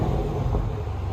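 A 2020 Dodge Challenger 392 with a 6.4L HEMI V8 and Jones JFP dual exhaust, valves removed, gives a brief, loud, deep exhaust rumble up close.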